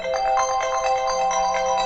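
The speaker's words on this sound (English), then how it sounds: "I do know my wife's got a rather annoying ringtone" An iPhone 6 in a Lumenair case rings with an incoming call, a loud, close electronic ringtone pulsing in quick repeated tones with no voices.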